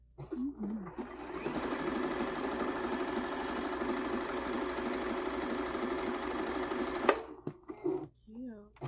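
A sewing machine stitches a quilt-as-you-go table runner in one long, steady run of rapid whirring, with someone speaking briefly before and after the stitching.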